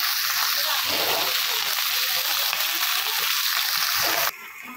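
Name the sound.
fish frying in oil in a pan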